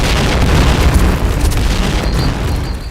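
Grenade explosion in the shooter game Point Blank, a loud, heavy boom with a rumbling low tail that fills the moment, close and overpowering, no talking.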